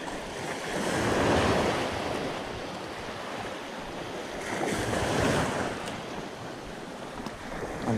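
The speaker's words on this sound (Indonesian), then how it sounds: "Ini ombaknya masih gede misalnya." Large ocean waves break along a shoreline where people fish from the edge, a steady loud rushing surf swelling twice with wind buffeting the microphone.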